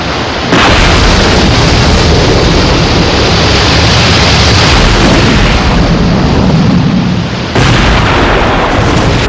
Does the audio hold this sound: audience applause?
no